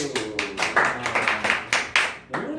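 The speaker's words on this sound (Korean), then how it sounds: "자 동현을 위해서 박수" A small classroom of students clapping for a classmate during a high school math lesson: a handful of distinct, close claps in an uneven rhythm rather than a full ovation.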